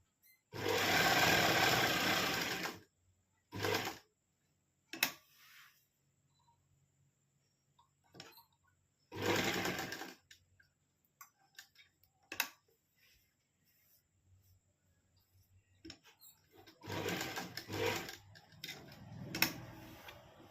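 A sewing machine stitches a button placket on a kurti in short runs of fast whirring, with three separate bursts split by quiet pauses and small handling clicks.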